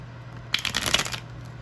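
A tarot card deck is shuffled in one quick, close riffle of papery flutter lasting under a second against a quiet room.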